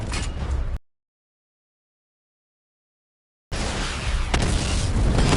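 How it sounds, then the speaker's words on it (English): A missile barrage explodes in a video game as a loud, rumbling blast. There is a sudden gap of total silence, then heavy booming explosions come back, swelling louder toward the end. "Missile barrage level 1 ready."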